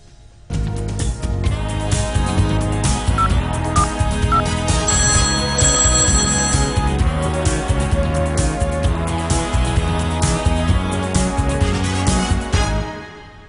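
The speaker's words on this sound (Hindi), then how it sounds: "तो लकी कॉलर को फोन लग चुका है" An electronic telephone ringtone plays loudly and continuously, a bright repeating melodic ring that starts abruptly and runs for several seconds before cutting off.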